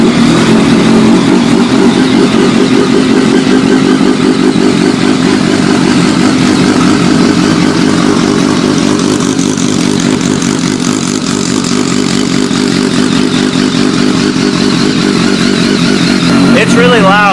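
A cheap, fast motorcycle engine starts and idles loudly and close, a rough loping throb that runs steadily throughout with slight speed changes, and voices talk over it near the end.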